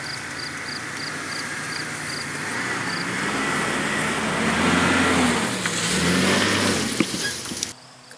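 A 2000 Jeep Cherokee, lifted 3 inches, idles with a steady low engine rumble that swells into a brief rev before settling, with faint insects chirping in the background and no voices.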